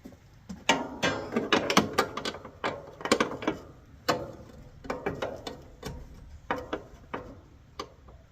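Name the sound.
wrench turning on Jeep Grand Wagoneer front clip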